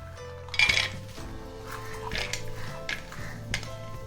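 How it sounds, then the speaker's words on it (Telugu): A metal frying pan (mukudu) is set down on a home kitchen stove while making neyyi karam podi: one sharp, close clank, then a few lighter metallic clinks over a faint steady hum. "మూకుడు పెట్టుకుందాం"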